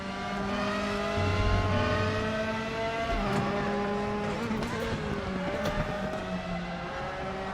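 A racing car engine in RaceRoom Racing Experience drones and climbs through the gears, its tone rising and dropping with shifts, loud and close with faint tire noise underneath.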